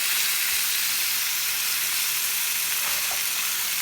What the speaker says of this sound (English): Alright, let's flip them over.